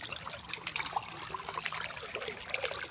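Irrigation water trickles and gurgles steadily into a castor field, close by, with a continuous soft splashing flow and no voices.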